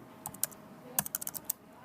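Keys clacking on a computer keyboard as numbers are entered into a spreadsheet, a quiet, close run of about a dozen quick, uneven taps with short pauses between clusters.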